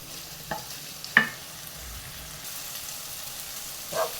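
Vegetables and paneer stirred in a pan with butter and garlic, a soft frying hiss underneath with a few brief utensil scrapes and taps spaced across the stretch, fairly quiet and close, no voices.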